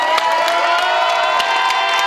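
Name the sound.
concert crowd cheering and applauding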